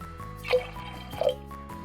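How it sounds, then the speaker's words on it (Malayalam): Water poured from a vessel onto cowpeas in a pressure cooker while making Kerala-style pumpkin and cowpea erissery, giving two short close splashing pours amid faint kitchen background hum. "പയറിലോട്ട് നമുക്ക് വെള്ളം ആഡ് ചെയ്ത് കൊടുക്കാം."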